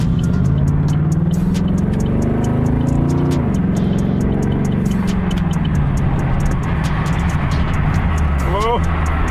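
A 2013 Camaro SS cruises on a freeway, its steady engine and road roar loud and continuous, with a rising engine pitch briefly near the end and faint clicks over the drone.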